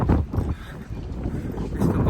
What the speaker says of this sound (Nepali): अहिले चाहिँ चिसो हावा चलेर चाहिँ जाडो हुन थाल्यो